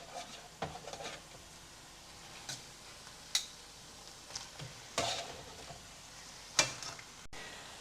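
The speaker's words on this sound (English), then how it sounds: "Now we are going to add the beef back to our skillet." Beef goes back into a skillet of reduced wine for ropa vieja, giving a faint low sizzle broken by scattered stirring scrapes and light clinks of a utensil against the pan.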